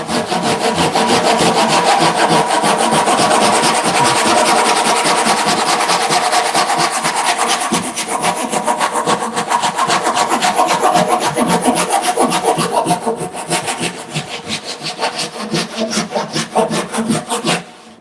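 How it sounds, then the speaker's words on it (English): A hand saw cuts through wood during studio construction, with steady, rapid back-and-forth strokes that stay loud and close throughout and ease off slightly near the end. No voice is heard. "I'm cutting it with my saw to have more control over it"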